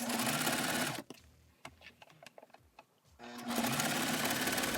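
Sewing machine stitching fabric liner pieces for a storage box, a loud steady mechanical whir in two runs with a quieter pause of handling clicks between them, close up.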